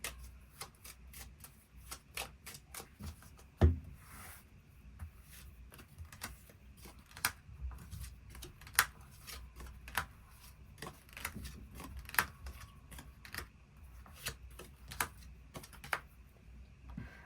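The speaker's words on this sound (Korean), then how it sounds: "추가 카드 뽑아보도록 하겠습니다" Tarot cards are shuffled and drawn at close range, a quiet, steady run of soft flicks and light snaps with occasional sharper clicks, heard without talking.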